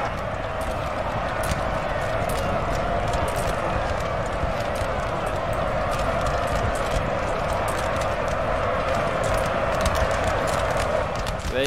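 Cavalry horses gallop across a chaotic battlefield in the video game Napoleon Total War, a dense, loud, continuous drumming of many hooves with scattered sharp clatters throughout.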